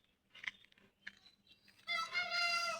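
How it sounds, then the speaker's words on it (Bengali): Native chickens kept on a rooftop: a few soft clucks and pecking sounds, then a loud, drawn-out call from a nearby bird lasting about a second, with no voices. "মুরগি দেখা যাইতেছে, দেশীয় মুরগি"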